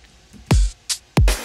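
Programmed drum pattern with closed hi-hats placed squarely on the beat, giving a stiff, mechanical feel: two heavy kicks with bright hat and snare hits between, loud and alone.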